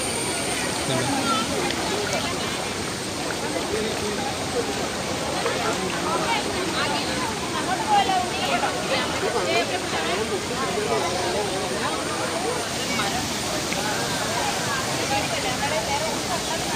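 Aruvikuzhi waterfall in Kottayam, running low on water, gives a steady, loud broadband rush of falling water that fills the scene throughout, with faint voices of people nearby mixed into the roar.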